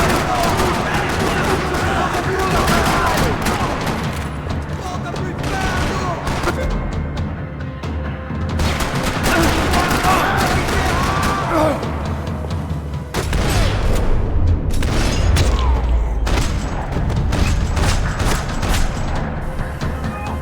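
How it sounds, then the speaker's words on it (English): Dense gunfire rattles across a parking lot in a Max Payne 3 shootout, with rapid bursts, overlapping shots and booms, loud and continuous with brief lulls, and voices shouting in between. "Another parking lot rattling with gunfire."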